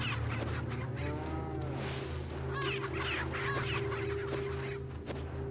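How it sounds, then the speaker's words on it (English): Chickens cluck in a video game, several fowl calls rising over a steady low droning game ambience, moderately close and continuous with no talk. "Can I kill the chickens?"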